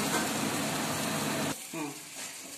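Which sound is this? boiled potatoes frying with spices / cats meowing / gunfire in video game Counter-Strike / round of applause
boiled potatoes frying with spices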